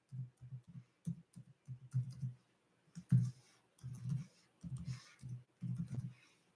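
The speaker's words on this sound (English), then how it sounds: "I'm typing it, I'm filling it in now." Typing on a computer keyboard, soft close key clicks in short rhythmic bursts separated by brief pauses, with no other sound in between.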